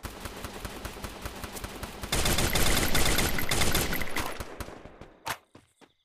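Gunfire in Free Fire, a steady run of rapid automatic shots that swells into a dense, loud volley midway, then thins to a few scattered cracks before falling quiet.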